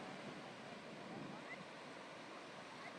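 Strong ocean waves surge onto a beach in a steady, broad wash of surf noise with no distinct breaks, heard alone and fairly close.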